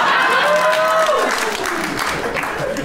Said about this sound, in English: Are you guys clapping for me or my dad?